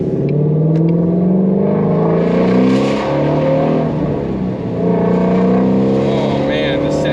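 A Ford Mustang GT350R's 5.2-litre flat-plane-crank V8 revs loudly and close by, its pitch sweeping up and down through several gear changes in a continuous, dense engine roar.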